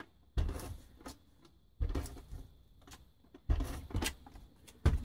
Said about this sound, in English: I cut it out using my trimmer.